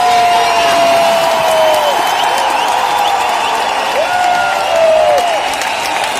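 Loud, sustained applause and cheering from a large crowd at an RCM women's empowerment event, with whoops and shouts rising over continuous clapping throughout.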